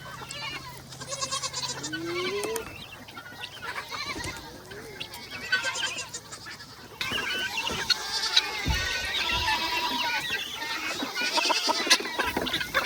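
Goats bleat repeatedly on a farm at feeding time, several animals calling near and far over a busy background of livestock noise, with a few faint clucks mixed in.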